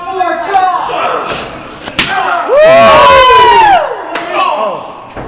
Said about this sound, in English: Devastating kick by Achmed.